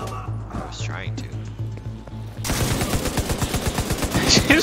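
Video game gunfire, with rapid bursts of shots rattling in quick succession during the second half, loud and close, after a stretch of quieter game noise with a low rhythmic hum.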